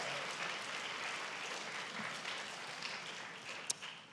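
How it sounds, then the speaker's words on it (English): A congregation at a Shabbat synagogue service applauds with a soft, even patter of many hands clapping, fairly distant and quiet, with one sharper clap standing out near the end. "Yeah, you can give them some claps."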